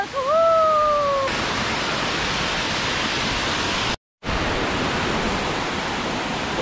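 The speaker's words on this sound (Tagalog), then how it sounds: "So welcome to Bicayan Falls!" Rushing water of Bicayan Falls, a steady broadband roar filling the whole stretch, with a brief whoop of voice at the start and a short cut to silence partway through.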